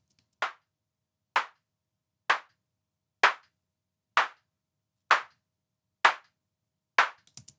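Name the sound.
synthesized clap sound from sound design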